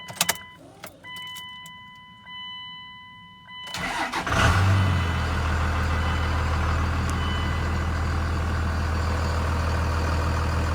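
A 2002 Dodge Ram 2500 pickup with a 24-valve Cummins diesel cranks and catches, then settles into a loud, steady idle with a deep rumble, after a few faint clicks and a quiet pause.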